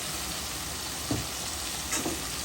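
Spices and ground mustard paste sautéed in a pan for a Bangladeshi mustard hilsa curry, a steady close sizzle with two brief stirring scrapes and no talk.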